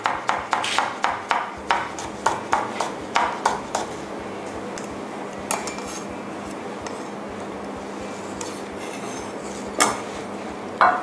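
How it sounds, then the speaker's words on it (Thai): A knife chops through cucumber on a cutting board for Thai fish cake sauce, a quick run of about a dozen sharp, close thuds in steady rhythm, then a few scattered cuts. "ซอยแตงกวาแบบนี้นะคะ"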